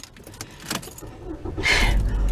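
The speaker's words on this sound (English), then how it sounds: "let me start my car up" Keys jingle briefly before a car engine turns over and catches, settling into a steady low idle close by.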